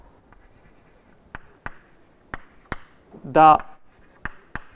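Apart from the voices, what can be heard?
writing down a Hermitian matrix eigenvalue equation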